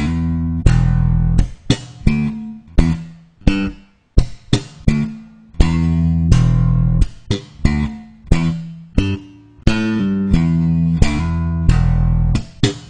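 Slap bass guitar line played very slowly, a close and loud run of thumped and popped notes in a halting rhythm, some ringing and others clipped short by gaps of silence, played solo.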